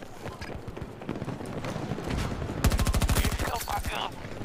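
Bursts of rapid automatic gunfire in Battlefield 2042, loud and close, mixed with hoofbeats and background game noise.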